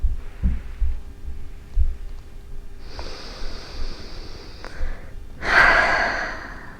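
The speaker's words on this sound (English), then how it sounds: "Taking a few deep breaths" A person breathes slowly and deeply close to the microphone, with soft thumps and a quiet hum underneath and a louder, airy breath toward the end.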